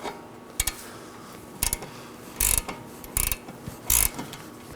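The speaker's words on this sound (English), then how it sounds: "So I'm going to use my 18mm wrench, slide it over, and now my 8mm wrench on top." Wrenches working the outer tie rod nut on a 2018-2024 Chevrolet Equinox, heard as several short metallic ratcheting bursts and clicks spaced irregularly over quiet background, close and fairly loud.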